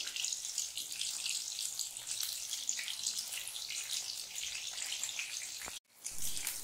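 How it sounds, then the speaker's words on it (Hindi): Soybean pakoras deep frying in a large kadhai of oil, a loud, dense, continuous hiss and bubble that cuts out briefly near the end before resuming, no voices. "बड़ी कढ़ाई रहेगी तो जल्दी से फ्राई हो जाएगी।"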